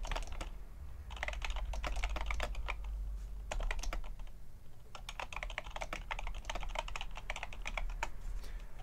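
Steady typing on a Cherry G86 POS keyboard, quick bursts of key clicks with short pauses, close and fairly quiet, with no talking.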